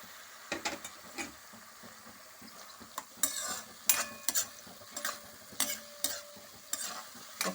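Green chilies frying in oil for temple-style tamarind rice get tamarind juice stirred in, giving a steady sizzle with repeated scraping stirs and spoon clinks against the pan at close range.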